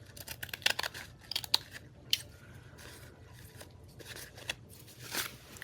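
Scissors snip through the paper backing of a vintage book page for a lace pocket craft, giving a run of quiet, irregular cuts and crisp clicks at close range with no talking.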